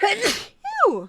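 A person sneezes once, close and sharp, and a short spoken reaction follows right after.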